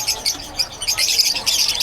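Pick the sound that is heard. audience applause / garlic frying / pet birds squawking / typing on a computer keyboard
pet birds squawking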